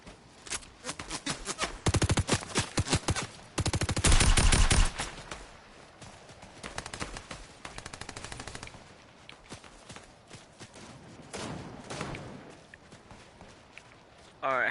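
Rapid bursts of gunfire from the video game Fortnite rattle in loud volleys, with fast footstep-like clatter between them and a voice talking over the game.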